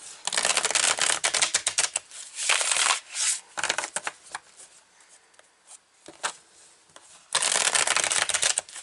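Tarot cards are shuffled in bursts of rapid riffling and flapping, loud and close, with short pauses between rounds and no talking.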